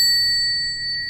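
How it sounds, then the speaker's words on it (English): A bell rung to clear a space sustains a steady, ringing tone that slowly fades, loud and alone. "I'm going to ring the bell for you guys to start pre-clearing out the space"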